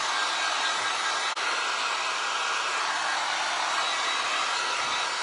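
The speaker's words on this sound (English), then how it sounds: "let's heat this booger up with my handy dandy Seek 1 heat gun and get it dry" A Seek 1 heat gun blows a steady, loud hiss of hot air over wet resin on a metal tin, unbroken apart from one brief click partway through, with no talking.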